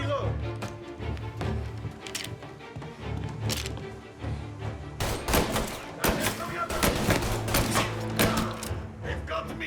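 Gunfire in the video game Mafia Definitive Edition: scattered shots and rapid volleys at moderate loudness, with a dense cluster of cracks in the later part and game voices and background music underneath.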